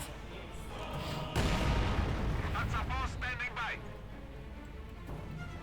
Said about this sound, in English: Lots of air mortar fire